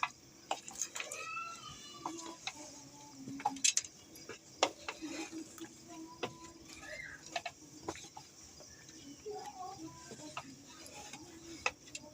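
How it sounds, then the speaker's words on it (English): Mokimo being stirred in a pot on a charcoal stove: irregular clinks and scrapes of a spoon against the pot, close and moderately loud, with a voice speaking at times. "You need to give it a good stir."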